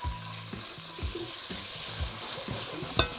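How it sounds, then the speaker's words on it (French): Chicken pieces brown in a casserole pot, with a steady close sizzle and repeated stirring scrapes at a regular rhythm. "on fait bien colorer les bouts de poulet"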